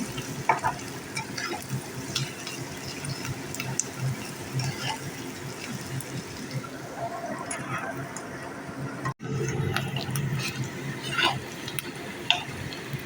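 Green chilies and spices fry in a pan for a mutton fry, a low, fairly quiet sizzle broken by intermittent stirring scrapes and clicks, with a short gap partway through.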